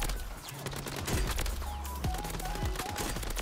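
Holger 556 assault rifle fire in Call of Duty Warzone, Rebirth Island: rapid sustained automatic bursts, loud and close, crackling steadily throughout with brief pitched game effects layered over.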